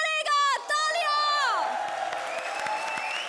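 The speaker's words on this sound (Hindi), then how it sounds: "तालियां" A comedy show audience on a stage set bursts into applause and whoops, with shrill cheering voices and a high sustained shout at first, then settling into steady clapping from a large crowd.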